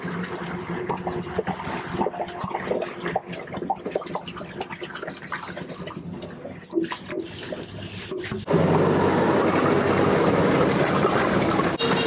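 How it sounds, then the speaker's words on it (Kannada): Bottled Bisleri water being poured into a large pot of cooked dum mutton biryani, heard as a steady rushing pour that swells louder partway through, with clatter and background bustle earlier. "ಬೇಯಿಸ್ಕೊಂಡಿದ್ದಾದ್ಮೇಲೆ ಈಗ ನೀರು ಹಾಕ್ಕೊತಾ ಇದ್ದಾರೆ, ಬಿಸ್ಲರಿ ನೀರು"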